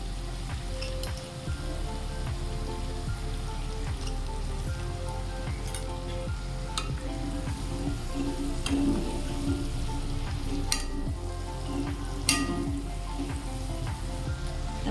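Drumstick curry (sargava lotiyu shaak) frying in oil after sugar is added, a steady dense sizzle that runs the whole time with a slight swell midway and a few faint clinks.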